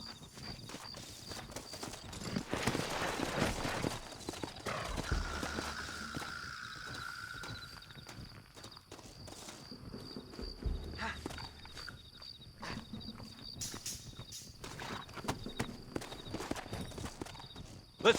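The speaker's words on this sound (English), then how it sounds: "Looks like Carlos left us some horses." Horses galloping in the video game Red Dead Redemption: rapid clip-clop hoofbeats in a steady running rhythm, with brief overlapping noises and a few louder bursts along the way.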